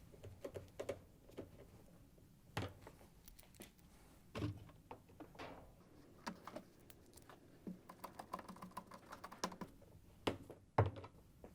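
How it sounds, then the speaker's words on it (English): A 5/16 nut driver driving screws into straps on a GE washer, heard as faint close clicks, taps and small knocks in irregular bursts against a quiet background, no talk. "we can use the 5/16 nut driver to put the screws in"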